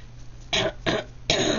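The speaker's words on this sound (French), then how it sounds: "J'arrête pas de me racler la gorge depuis tout à l'heure" Three harsh throat-clearing bursts, close and fairly loud, separated by short pauses, with the last one longest.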